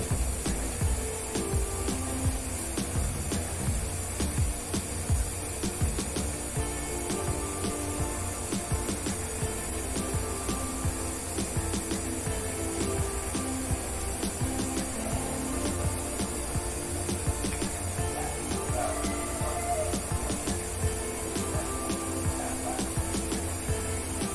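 Sweet pumpkin pitha, a Bangladeshi fried cake, sizzling in hot oil: a dense, steady crackle and hiss that runs evenly throughout with no voices.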